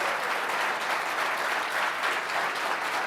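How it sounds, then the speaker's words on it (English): A crowd at a CFL football event in Halifax gives a big round of applause for three guests, loud continuous clapping from many people at an even level throughout, with no talking over it. "Another big round of applause, please, for these 3 gentlemen"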